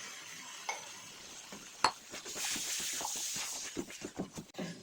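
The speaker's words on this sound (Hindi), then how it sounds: "5 मिनट ये आलू को कीमे के साथ इस तरह हम भूनेंगे" Mutton keema and potatoes fry in a pan while being stirred, giving a steady sizzle with repeated scraping strokes of the spoon and a sharp utensil clink near the middle, close and fairly quiet.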